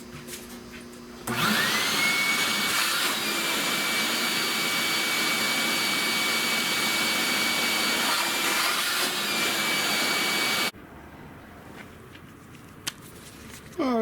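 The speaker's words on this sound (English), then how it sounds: "vacuum up the rest of this water in here." Shop vacuum sucking leftover water out of a car interior during headliner upholstery work on a 1979 Limited, a loud steady whine with a rising tone that runs about nine seconds, then cuts off abruptly to near quiet.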